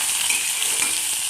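Potatoes and beans frying in oil, a steady dense sizzle with a soft crackle throughout, close and fairly loud, no voices.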